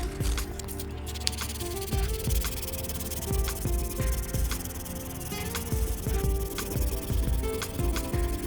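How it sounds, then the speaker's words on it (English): Fine 400 or 600 grade sandpaper rubs over a wooden table in steady, close back-and-forth strokes, a soft repeated scratching with no voices. "sand it with soft sandpaper like 400 or 600 grade first,"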